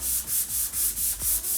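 Rhythmic sanding of an Amish-built wooden dining table with a pad, six or seven steady back-and-forth strokes, close and fairly loud, with no voices.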